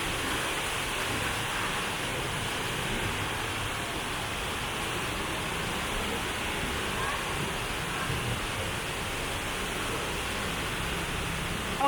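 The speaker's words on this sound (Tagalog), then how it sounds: "Dahil umuulan" Rain falls on a city street in Silom, Bangkok, a steady even hiss of downpour filling the scene at moderate distance without pause.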